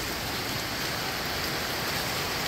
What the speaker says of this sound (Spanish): es que ha llovido con ganas usted